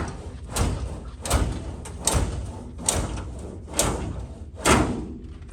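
Metal drawer slides on a Snap-on toolbox clack and bang in a series of six sharp, close knocks roughly a second apart as the drawer is worked free.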